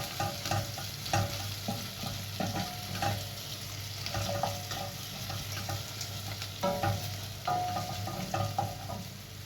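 Garlic and ginger paste frying with onions in a pan for a broiler chicken stew, a steady close sizzle broken by repeated scraping stirs and soft utensil knocks throughout.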